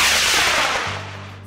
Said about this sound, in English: go make your own rocket and see it fly